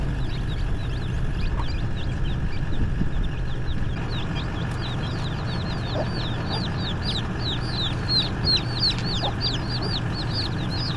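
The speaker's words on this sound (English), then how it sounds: "The site has many chickens, and I, without thinking too much, fed some of them with rolled oats next to the van." Chickens cluck in chirpy, overlapping bursts around a campervan parked at a site in Pahiatua, with a steady low rumble underneath and no talk.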